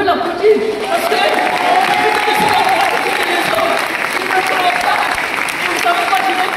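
An audience claps steadily for a man asked to stand, a dense sustained round of applause with some voices and chatter mixed in, loud and close throughout.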